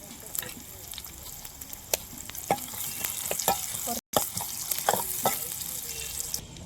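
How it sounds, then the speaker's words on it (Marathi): Chopped onion crackles softly in oil for a fish curry, a low steady sizzle broken by scattered sharp pops and the scrape of stirring, with faint background noise throughout. "कांदा टाकून घेऊ मस्त असा बारीक करायचा आणि याला मस्त लाल होईपर्यंत असा परतून घेऊ तेलात"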